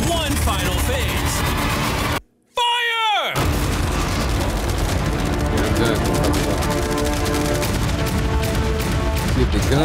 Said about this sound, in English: On top of all these machine guns, we have 100 cannons.